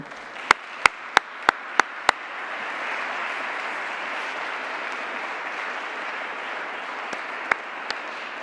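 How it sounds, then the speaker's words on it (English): An audience applauds steadily at a formal climate leadership event, a broad even wash of clapping lasting several seconds, with a few sharper near claps standing out at the start and end. "Please, let's have a round of applause for Eric."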